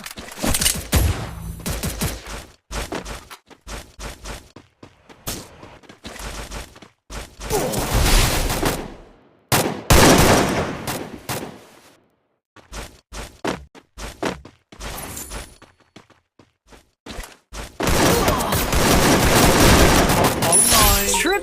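Bursts of automatic gunfire and explosions from the Free Fire video game, in a Squid Game themed general mode, loud rattling volleys separated by short quiet gaps, with speech around them.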